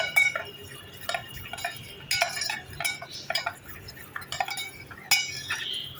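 A sauce paste of tomato ketchup, red and green chilli sauce and soy sauce being mixed in a bowl for chilli paneer, repeated light clinks and scrapes of a spoon against the dish in an irregular rhythm.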